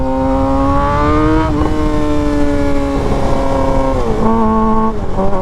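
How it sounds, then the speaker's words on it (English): Suzuki GSXR motorcycle with an aftermarket exhaust, a loud, close engine note holding steady high revs, dipping briefly between pulls and rising again, with no voices. "God, dude, this exhaust."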